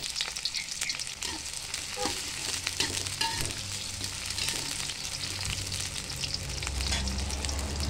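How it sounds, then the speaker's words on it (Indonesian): Shallots sautéing in a little hot oil in a pan, a continuous close crackling sizzle with scattered pops and light stirring clatter throughout, no voices. "panaskan sedikit minyak, lalu tumis terlebih dahulu bawang merahnya"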